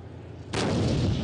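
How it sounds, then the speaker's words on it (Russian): A single heavy tank cannon blast at a tank biathlon booms suddenly after a moment of low rumble, loud and close, its roar lingering to the end. "Выстрел!"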